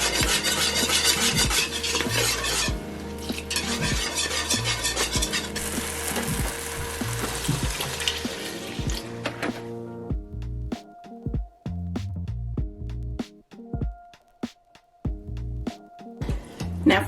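Someone whisks sauce in a pot to keep lumps from forming, making busy, scraping, clattering strokes for about ten seconds. After that come sparse, separate taps and scrapes, all close with no voices.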